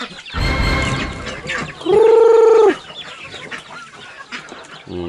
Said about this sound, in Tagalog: Oh, yan yung mga sisiw na naglalabag.